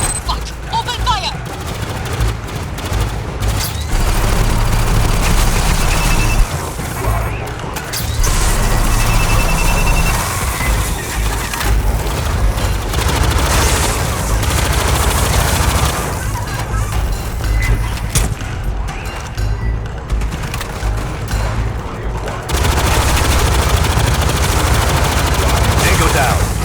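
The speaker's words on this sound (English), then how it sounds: "Open fire!" Sustained, dense gunfire from the Aliens Fireteam Elite 2 video game, with rapid automatic bursts roaring continuously at high volume over a heavy rumbling game soundtrack, voices occasionally heard beneath.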